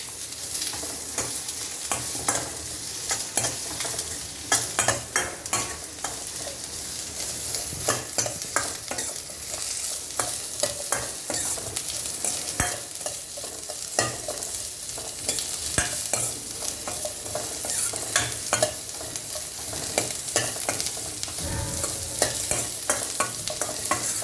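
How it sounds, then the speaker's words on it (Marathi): Chopped onion fries and is stirred in a pan until reddish, for a patodi rassa curry; steady close sizzling with frequent scraping strokes of the spoon runs throughout, with no voices. "तो कांदा आपल्याला लालसर होईपर्यंत छान भाजून घ्यायचा आहे"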